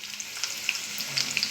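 Onions, ginger and green chillies fry in a hot pan, with a steady close sizzle and small crackling pops over a brief stretch, no voices.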